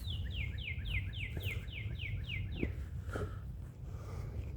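A bird chirps a quick series of about ten bright, descending notes over a low, steady rumble of background noise, followed by a few faint calls.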